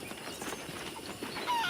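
Horse hooves clip-clopping in the video game Red Dead Redemption, a steady trotting rhythm of moderate loudness over a busy ambient game background, with no talk.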